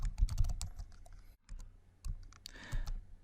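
Code typed on a computer keyboard, close and crisp, with bursts of rapid key clicks, a short pause, then more quick strokes and a heavier keypress thump.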